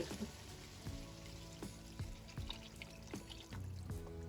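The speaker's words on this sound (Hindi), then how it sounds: "तो अब हम इसके में पानी शामिल करें। अब ये यखनी यखनी का पानी" Yakhni stock is poured into a pot of soaked rice for Hyderabadi beef pulao, giving a soft, continuous liquid trickle and sizzle with small splashes. It is faint and heard without talk.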